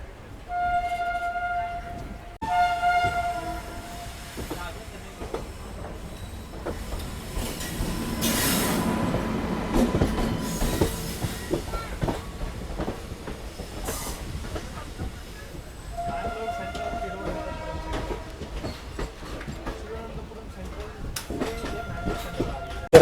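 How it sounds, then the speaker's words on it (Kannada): A passenger train from Thiruvananthapuram bound for Mangalore Central rolls past at length, a steady rumble with wheel squeal, hiss and clattering rail joints rising and falling, with brief voices in the background. "ತಿರುವನಂತಪುರಮಿಂದ ಮ್ಯಾಂಗ್ಳೂರಿಗೆ ಹೋಗೋ ಟ್ರೈನ್"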